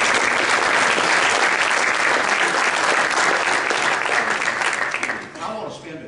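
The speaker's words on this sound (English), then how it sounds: "I wish you would give yourselves a round of applause." A business conference audience at a Kentucky Chamber policy event gives itself a round of applause, dense sustained clapping from a large room that thins out and fades near the end.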